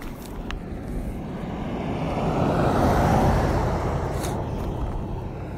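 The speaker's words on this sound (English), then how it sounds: "Let me let this car go by." A car driving past outdoors, swelling gradually to a broad roadway whoosh near the middle and then slowly fading, with no talking.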